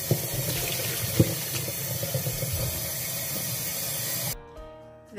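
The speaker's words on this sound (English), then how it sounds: "Now we're gonna remove the water." A steady rush of water pours out of a bowl of soaked strawberries for several seconds, then stops abruptly, leaving a faint hum.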